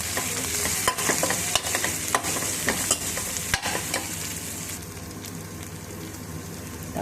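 Curry leaves, dried red chillies and green chillies fry in hot oil. A dense crackling sizzle runs throughout, broken early on by several sharp scraping stirs before it settles into a more even hiss.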